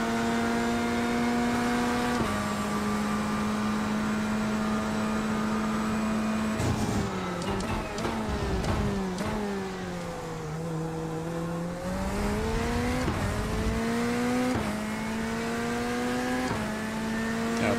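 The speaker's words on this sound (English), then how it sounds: "At this point, I'm just trying to get the car warmed up and get some rhythm here." Race car engine in the iRacing sim, a loud sustained drone that holds steady, dips as the car slows, then climbs and falls through gear changes and revs, with no talk.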